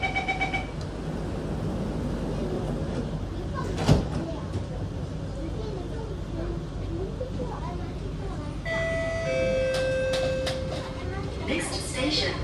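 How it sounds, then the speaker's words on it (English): Doors on a Singapore MRT KSF C151B train close between Canberra and Sembawang stations on the North-South Line, with a sharp thud, cabin rumble and a tonal chime near the end, under an announcement voice. "doors are closing."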